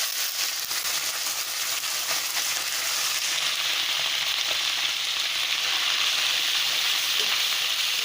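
Boiled fish fries in hot oil in a pan, giving a steady, close sizzle with crackling pops and occasional stirring scrapes, with no talking.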